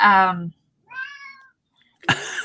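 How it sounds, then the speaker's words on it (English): A cat meows twice, a loud drawn-out meow followed after a pause by a softer, higher one, with a voice cutting in right after. "There's the cat."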